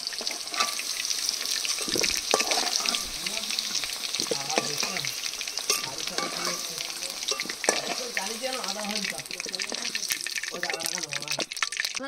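Dried red chilies, whole cumin and whole garam masala fry in hot oil, a continuous close sizzle broken by scraping stirs and occasional crackles, with a person speaking now and then.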